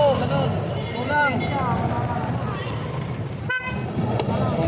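A short vehicle horn toot sounds from a car or bus on a night road, heard amid traffic noise and someone talking nearby.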